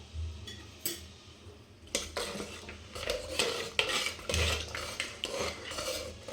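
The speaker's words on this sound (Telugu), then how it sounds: "వాటర్ వేసి బాగా కలపండి." A spoon stirs mutton paya curry in a pot after water has been added, giving repeated scraping and clinking strokes in an uneven rhythm, close up with no voices.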